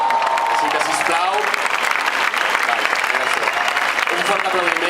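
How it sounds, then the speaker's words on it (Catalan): Loud, steady audience applause fills the whole stretch at a band's anniversary celebration for Amics de les Arts, with a few voices and cheers rising over the dense clapping. "un fort aplaudiment"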